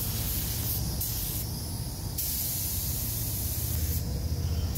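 A spray gun hisses as it lays clear coat onto a car's front bumper, a close, steady spray broken by a few short pauses between passes.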